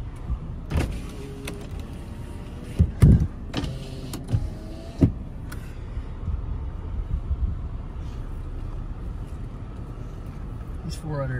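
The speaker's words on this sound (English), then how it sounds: "roll the back window up" Power windows of a 2005 Toyota 4Runner Limited whir up and down in short motor runs with thumps as they stop, close and fairly loud inside the truck.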